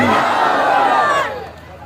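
Crowd at a religious gathering roaring back in unison to a Nara-e-Takbir chant, a loud massed shout that swells and then fades out.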